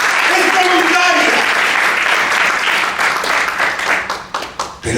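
A church congregation gives loud, sustained applause at a worship service, dense clapping filling the room with voices and cheers mixed in, thinning out toward the end.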